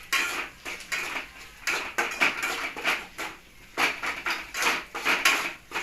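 A spoon scrapes and clacks around a pot as peanut powder is stirred into a matki moong curry, producing repeated rhythmic metallic knocks and scrapes, close and fairly clear with no voices.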